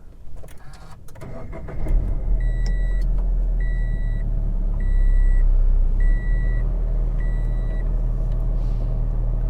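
A supercharged 2016 Subaru BRZ Blue.Series cranks and fires after a couple of seconds, then settles into a steady, close idle. A run of evenly spaced dashboard warning chimes beeps over the engine.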